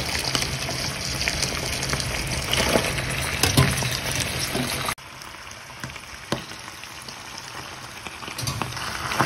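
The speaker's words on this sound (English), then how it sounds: "Pasta is ready, and we got to drain it and put in the hot sauce." Drained pasta tipped into a pan of hot sauce for a Roman pasta alla zozzona, a steady wet sizzle and bubbling that drops abruptly quieter midway, with occasional stirring knocks and no talk.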